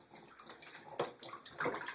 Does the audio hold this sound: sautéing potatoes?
no